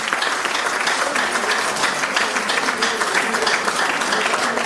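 Audience applause at a church couples' dinner, a dense, steady wash of clapping held at full loudness throughout, with no breaks.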